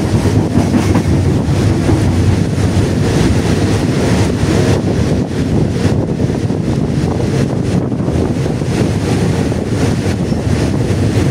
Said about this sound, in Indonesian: Kereta api Rapid nomor 133 memasuki emplasemen stasiun Tanaleng pada pukul 8:52